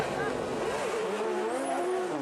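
A loud drift car driven by Daigo Saito for Fat 5 Racing screams through a Formula Drift Japan run, its engine note rising and bending continuously, with a chase car close behind.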